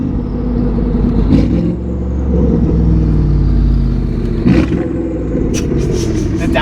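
A Porsche Panamera Turbo with side exhaust sends out a loud, steady low engine rumble that swells into revs and eases back. Brief higher bursts break through, and no one talks.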